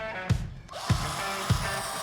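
A power drill whirs up close, with three sharp knocks at regular intervals as it bites in.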